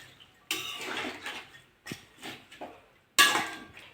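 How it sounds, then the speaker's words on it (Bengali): Vegetables with water, turmeric and salt stirred in a metal pot for a prawn and pumpkin-stem dish, heard as several short bursts of scraping and clattering separated by brief pauses. "জল দিয়ে দেবো, একটু জল দিয়ে দেবো, হলুদ দিয়ে দেবো, লবণ দিয়ে দেবো, ভালো করে ঘেটে দেবো"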